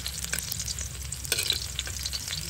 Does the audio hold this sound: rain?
no